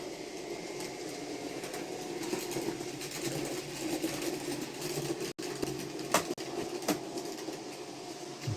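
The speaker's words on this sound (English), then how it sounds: "see some trains come along the inner loop and the outer loop" Model railway trains run round the inner and outer loops of a layout, a faint steady rumble and whir with a few light clicks as the wheels cross the track joints.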